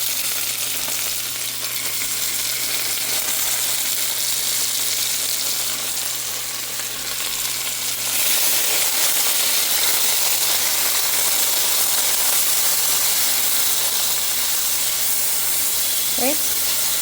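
Tomatoes sizzle and fry with browned onions in a pan for a ground beef and potato keema aloo curry, a steady close hiss that grows a little louder and brighter partway through.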